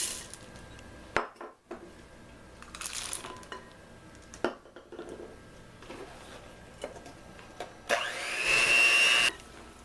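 An electric mixer blends chocolate chips into cookie dough, whirring loudly for about a second and a half near the end, after scattered clinks and knocks of kitchen utensils and bowls.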